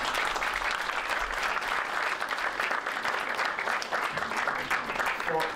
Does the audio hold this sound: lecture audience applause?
yes